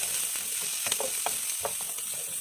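Butter sizzles steadily in a pan as the base of a shrimp kofta sauce, a constant bright hiss broken by small pops and faint clicks of a utensil, close and without talk.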